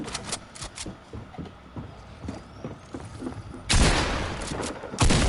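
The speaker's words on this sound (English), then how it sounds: "a shotgun" A shotgun fires in a video game with two heavy, booming blasts near the end, after a stretch of quieter clicks and footsteps.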